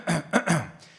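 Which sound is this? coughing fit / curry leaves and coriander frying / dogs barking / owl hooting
coughing fit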